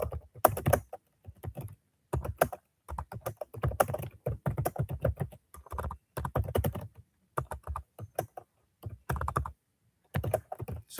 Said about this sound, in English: my typing seems slow tonight